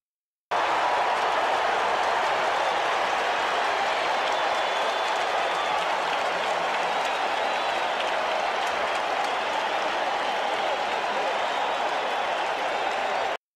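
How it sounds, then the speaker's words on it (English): Loud, sustained crowd cheering and applause from a baseball game in the OOTP video game, holding steady at a dense roar for about thirteen seconds with no break. "You've got a loud cheer for about, 11, 12 seconds"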